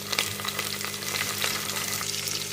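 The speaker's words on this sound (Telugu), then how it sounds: "ఇప్పుడు టమాటా వేసుకుందాం." Tomatoes fry in hot oil and get stirred, giving a dense, steady sizzle close up with light stirring scrapes, and no voices.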